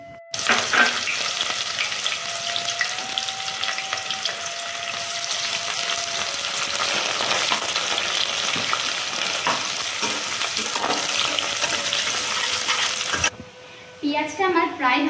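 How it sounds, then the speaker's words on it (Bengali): Chopped onion hitting hot oil already seasoned with bay leaf, dried red chilli and whole garam masala, sizzling loudly and steadily with stirring scrapes for mutton kosha, then cutting off before a few clinks. "ফোড়ন দেওয়ার পরে আমি এবার কেটে রাখা পেঁয়াজটা দিয়ে দেব।"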